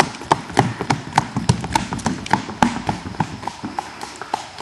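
Silver-gray Tennessee walking horse hooves clip-clopping on a wooden bridge in a smooth, even four-beat gait, crisp and close, with no talk.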